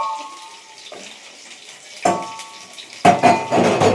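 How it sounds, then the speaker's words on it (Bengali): Dishes being washed at home, with clattering pots and plates striking one another in several loud clanks over a background of running water. "এই যে মা বাসনগুলো ধুয়ে দিল।"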